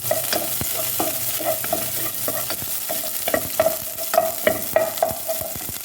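Butter sizzles in a frying pan while a utensil stirs and scrapes, giving soft crackling under repeated close clicks and taps, with no talking.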